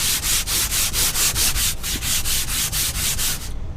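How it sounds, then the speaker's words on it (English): Rapid back-and-forth sanding strokes, loud and close, in a steady rhythm of about four strokes per second before stopping abruptly. "I'm just going to sand these really quickly"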